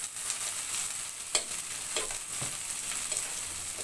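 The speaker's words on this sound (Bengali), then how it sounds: "এই বাইন মাছটাও আমি এই যে তেলে ভালো করে ভেজে নিচ্ছি" Bain eel pieces frying in hot oil in a pan give a steady bright sizzle, broken by a few louder crackles and scrapes of stirring, with no talking.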